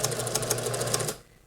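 Sewing machine running a rolled edge hem on fabric for a top, a close, steady rapid stitching chatter that stops abruptly near the end, with no talk.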